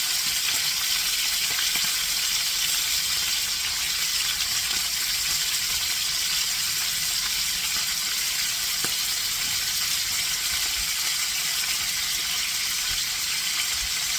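Pieces of beef fillet fry in a pan for beef stroganoff, giving a constant, dense sizzle with occasional faint pops. It stays close and steady throughout, with no talking.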